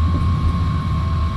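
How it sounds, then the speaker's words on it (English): An airliner's engines roar in reverse thrust just after touchdown, a loud, steady broadband rumble with a constant tonal whine running through it. "Reverse thrust operated."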